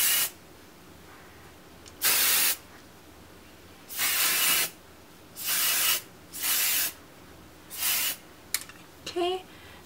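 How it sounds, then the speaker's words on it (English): Hairspray hisses onto curled short hair in six short, loud bursts of about half a second each, spaced by pauses, ending with a little faint handling noise. "I'm going to give it a good lift and some spray."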